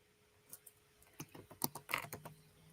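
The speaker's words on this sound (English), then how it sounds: "in the search bar, I'm going to type composition." Fingers typing a word on a computer keyboard, a quick run of close, crisp key clicks with uneven rhythm that grows denser toward the end, heard alone.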